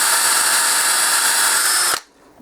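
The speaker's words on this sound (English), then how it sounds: "so we're going to drill this out now" A power drill bores out a broken bolt on a pit bike, a loud steady high whine lasting about two seconds before cutting off abruptly into quiet.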